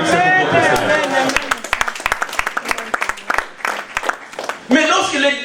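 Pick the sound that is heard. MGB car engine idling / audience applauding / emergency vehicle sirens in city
audience applauding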